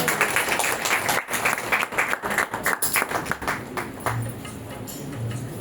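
A congregation at a church service claps together in a dense burst of rhythmic hand claps that lasts several seconds and then thins out into scattered claps.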